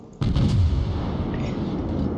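Naval gunfire in World of Warships, a heavy booming salvo that bursts in suddenly and leaves a loud rumbling wash trailing off behind it, with no voice over it.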